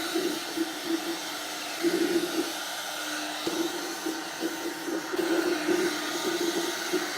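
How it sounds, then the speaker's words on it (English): A heat gun blows with a steady, whooshing hiss while drying the damp tail light of a Mazda MX5 Miata, its airflow fluttering slightly as it moves, with no voices. "I'm going to get a heat gun on this light and see whether I could dry it out a little bit."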